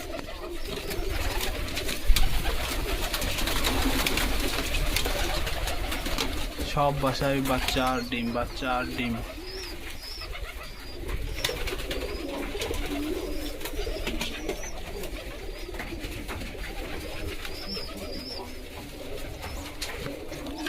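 Pigeons coo softly in the background of an enclosed pigeon loft while a person talks steadily over them throughout.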